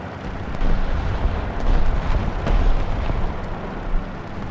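Artillery strike explosions in War Thunder, Ground Realistic Battle on the Carpathians map, heard as a dense, loud, continuous low rumble of overlapping blasts with a few sharper impacts, no voices.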